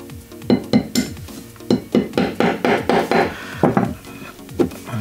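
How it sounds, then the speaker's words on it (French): A small hammer taps a little nail used as a makeshift punch to drive a tiny pin out of a CZ-75 SP01 Shadow pistol, giving a steady run of about a dozen sharp metallic taps, close and fairly loud. "comme il s'agit d'une très petite goupille et que je n'ai pas de chasse-goupille assez long, j'utilise un petit clou"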